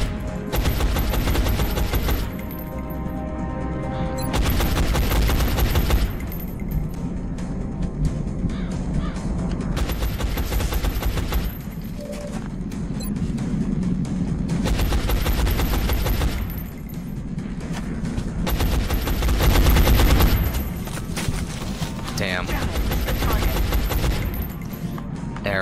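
Suppressing gunfire in an XCOM video game: several long bursts of loud, dense automatic fire, each lasting a couple of seconds and separated by short lulls, close and harsh, with a voice talking in places.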